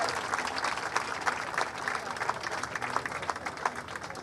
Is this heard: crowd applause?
yes